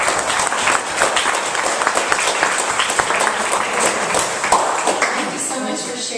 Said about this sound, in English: like for us to give a big round of applause to Don